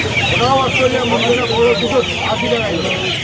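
Chickens cluck busily and close by at a crowded poultry market in Uluberia, with overlapping squawks and calls over a busy background where people are talking.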